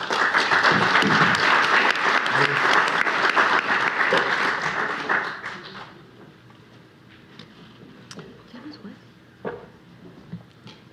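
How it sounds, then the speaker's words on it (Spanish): Dense audience applause at a legal panel session, loud and sustained for about five seconds, then fading to a few scattered claps and murmurs. "Un aplauso, por favor."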